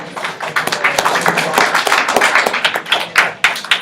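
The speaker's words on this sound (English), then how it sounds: "so round of applause" Audience applause at a Channel Islands Region one-day event, lively clapping from a modest crowd with individual claps standing out, continuing steadily and fairly close throughout.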